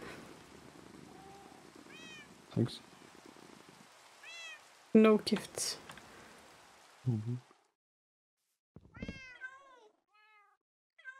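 A cat meowing in a peaceful farming video game, several short high mews scattered among game chimes and clicks, with a soft rain-like hiss underneath and a person talking briefly.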